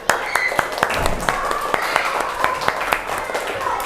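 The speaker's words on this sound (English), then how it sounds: "Clap your hand." A classroom of children clapping their hands together, a lively run of sharp, uneven claps over steady chatter and voices in the room.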